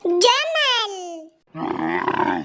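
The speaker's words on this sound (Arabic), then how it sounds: "جمل" A camel in a children's animal-sounds set gives a loud, drawn-out groaning grunt that falls in pitch, then after a short pause a rougher, gurgling bellow, close and alone.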